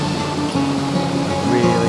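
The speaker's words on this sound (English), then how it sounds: "you can appreciate the size of the ocean, the waves coming in" Ocean waves wash steadily onto a beach at Benidorm, a constant rushing surf under a nearby speaking voice.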